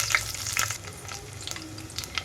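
Tempering seeds, crushed garlic cloves and curry leaves fry in hot oil for a lentil pappu charu, making a close, crackling sizzle with light stirring scrapes throughout.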